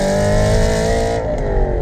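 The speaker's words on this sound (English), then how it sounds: "You get that lovely V8 burble as the revs are coming off." Aston Martin Vantage GT8 V8 engine burbling as revs come off, a loud, steady, close throaty drone that sags slightly in pitch, with no voices.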